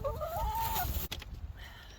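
A hen clucks and chirps in a short, quiet burst, a rising-falling call near the start followed by soft farmyard rustle and a brief knock.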